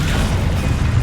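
Spell blasts from Confringo and Dissecto in Hogwarts Legacy, a dense, continuous low booming rumble with crackling bursts filling the whole moment, loud and close, with no talking over it.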